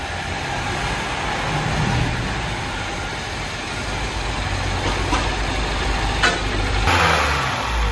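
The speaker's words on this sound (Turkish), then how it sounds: "Kesinlikle bakın çalışmasında bile bir tekleme var." A 2012 BMW 116i with about 126,000 km and an oil pressure fault idles with a misfire, heard from outside: a steady, rough mid-pitched engine drone with faint irregular knocks and no talking.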